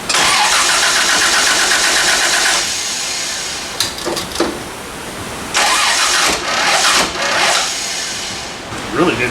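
A 1979 Toyota Land Cruiser engine cranks and fires, running loud and rough with uneven revving, then sputters and catches again in several bursts while people talk nearby.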